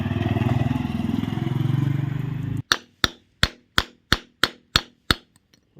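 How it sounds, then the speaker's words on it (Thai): Masonry drill or hammer drill working on concrete during an urgent repair of a burst water pipe: a loud continuous grinding run, then a series of eight sharp, evenly spaced impact knocks close by. "เจาะปูนซีเมนต์นี่ก่อนเนาะเจาะคอนกรีตนี่ก่อน"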